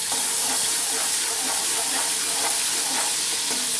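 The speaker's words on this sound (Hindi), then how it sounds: "अब मैं इसमें 2 टेबल स्पून लहसुन अदरक का पेस्ट डालूँगी।" Ginger garlic paste frying with dark-browned onions in a cooking pot for a yakhni matar pulao, giving a steady, loud, dense hiss and sizzle that runs unbroken for the whole few seconds with no talking.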